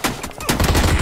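A quick burst of gunshots in the battle royale BGMI landing a headshot, two or three sharp close cracks in rapid succession with a rumbling tail.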